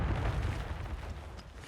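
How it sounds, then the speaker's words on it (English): Mortar strikes pound down in Call of Duty Warzone, a dense, rumbling low boom that rolls on for under two seconds and fades slightly toward the end, with no talk over it. "Mortar's on me."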